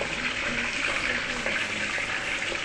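Fish pieces frying in oil in a pan, a steady broad hiss and crackle that holds evenly throughout, close and moderately loud with no talking.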